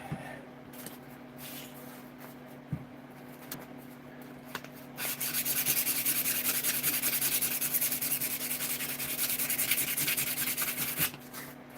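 A custom Buck 110 knife blade is sanded to 600 grit, giving a steady abrasive rubbing that starts lighter and grows louder and continuous about halfway through, with no talk.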